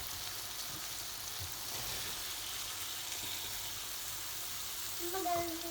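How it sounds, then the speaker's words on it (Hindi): Potatoes and peas with carrots fry in a pan with a steady, even sizzle that stays close throughout. A faint clink sounds near the end. "अब हम इनको भून लेते हैं।"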